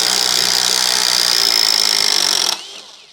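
A Tekiro CD ID2404 cordless impact driver runs at a steady high-pitched whir for a couple of seconds, then cuts off abruptly and spins down into near silence.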